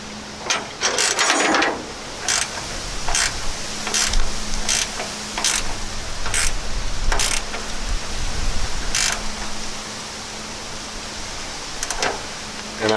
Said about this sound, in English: So I did bring out a 12mm wrench, and let's see if this tightens down without spinning.